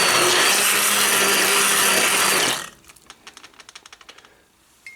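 A stick blender whirs loudly through a pot of red beans with andouille sausage for a few seconds, then cuts off, followed by a quick series of light knocks and taps against the pot.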